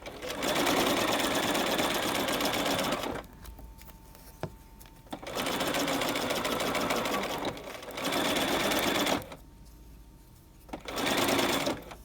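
A sewing machine stitches a piping seam on a piped bias facing, running in three steady bursts with quiet pauses between them. The motor whirs loudly and close, with no talk.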